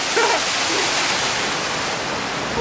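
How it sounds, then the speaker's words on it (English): A waterfall pours steadily into a pool at a hotel, its loud, dense broadband rush filling the scene continuously with no break or clear talk over it. "That waterfall cool as hell, bro."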